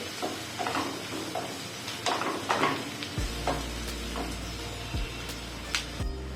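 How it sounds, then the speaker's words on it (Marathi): A spoon stirs kala masala and turmeric into a green pea filling in a pan, giving repeated scraping strokes over a soft sizzle, with a low steady hum in the background. "काळा मसाला छान मिक्स करून घ्यायचं आहे"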